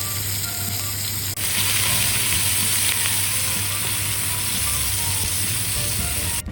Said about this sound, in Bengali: তেলের মধ্যে এবার দিয়ে দিলাম বাকি পেঁয়াজটা